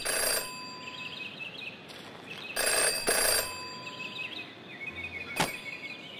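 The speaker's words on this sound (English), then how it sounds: "Jenny had learned never to ignore a ringing phone" A ringing telephone in the detective adventure game Jenny LeClue, with bursts of bright electronic ringing repeated at intervals over quiet background ambience, moderately loud and with no voices.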